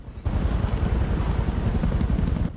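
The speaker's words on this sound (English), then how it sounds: "That's a lot of helicopters" Loud, close helicopter rotors thump rapidly and steadily over a roaring engine drone, starting abruptly and holding constant throughout.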